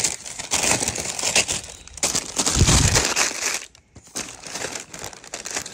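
Wrapping paper from a Nike Penny 1 sneaker box crinkling and crumpling close up, loud bursts of rustling handled in several rounds with a brief pause, no talk.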